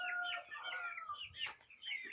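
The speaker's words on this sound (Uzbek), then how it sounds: "Bitta jo'jalar ko'ramiz mana akalar." Young chicks from a rooster-breeding yard peep and cluck in short, high calls at close range, a couple of chirps overlapping, with low farmyard background and no voices.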